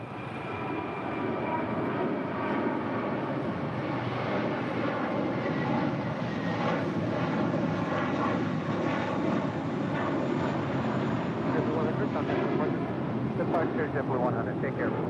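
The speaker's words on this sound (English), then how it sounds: "A321 now rolling down 25 right." An Airbus A321 jet rolls down runway 25 right at LAX, a steady, loud engine roar and rumble that holds throughout, with faint radio chatter mixed underneath.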